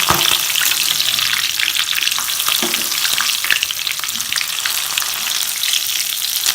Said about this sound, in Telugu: ఇట్లనే పచ్చిమిర్చి వెల్లుల్లి కూడా వేసి ఒక్కసారి ఆయిల్లో డిప్ చేసి తీయాలి